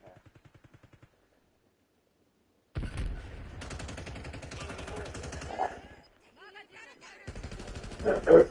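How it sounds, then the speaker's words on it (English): Automatic gunfire in Call of Duty: Warzone, a dense, sustained burst of shots with a short pause and then more firing, loud and close after a quiet opening. "I'm taking fire"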